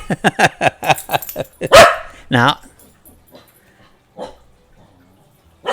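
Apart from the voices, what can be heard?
dog barking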